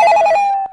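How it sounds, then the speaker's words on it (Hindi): A telephone rings late at night at home: one short, loud electronic ring burst, close by and warbling, that fades and stops abruptly with no talking. "इतनी रात को फोन किसका आ रहा होगा?"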